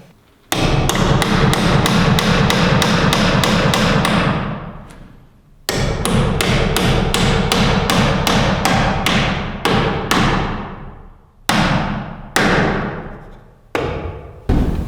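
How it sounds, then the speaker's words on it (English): Steady hammer blows drive nails to fasten an electrical box to a wooden wall stud during electrical rough-in on an ICF mountain homestead, loud rapid strikes in several bursts with brief pauses between. "you just nail it on"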